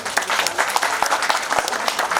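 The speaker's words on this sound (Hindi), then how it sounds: "ताली बजाइए आप लोग।" A seminar audience marking a foundation-day event breaks into brisk, lively applause, many hands clapping close and steady for a couple of seconds.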